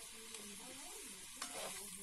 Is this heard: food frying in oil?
yes